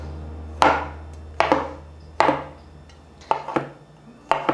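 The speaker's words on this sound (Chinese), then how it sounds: "把脚先切下来，脚的部分切片，接着切碎" A knife chops shiitake mushroom stems on a cutting board in five or six sharp, separate thuds with short ringing tails, spaced roughly a second apart, close and clear with no other sound.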